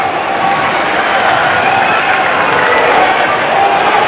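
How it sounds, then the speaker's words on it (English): Crowd applause and cheering from the home fans at a high school Class 4A substate final basketball game, a steady dense roar filling the gym throughout. "He will get a huge round of applause from the AL faithful."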